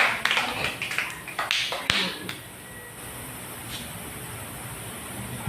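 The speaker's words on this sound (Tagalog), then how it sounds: "Pumalakpak po muna lahat sa ating pinakamamahal na Panginoon." A church congregation clapping for the Lord, a burst of scattered, uneven hand claps that fades after about two seconds into a quiet room tone.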